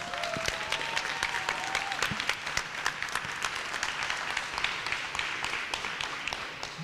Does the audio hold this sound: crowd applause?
yes